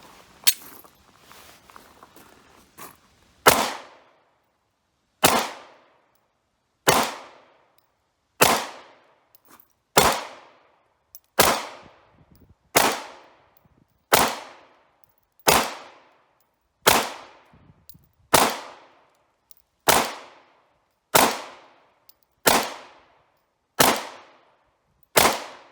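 A brand-new Glock Model 45 handgun fired at an outdoor shooting range: about fourteen loud, sharp shots spaced evenly roughly every one and a half seconds, each followed by a brief decaying echo, after some quiet handling noise.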